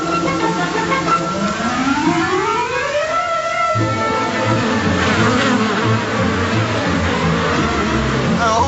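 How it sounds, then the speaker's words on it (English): A swarm of bees clustered on the back of a car makes a dense, continuous buzz from start to finish, close and loud, with a rising whine sweeping upward over the first few seconds. "you've got a massive beehive on the back of it"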